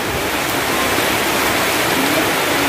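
Heavy rain pouring down shortly before the evening prayer time, a dense, continuous hiss filling the space evenly and loudly, with no other sounds standing out.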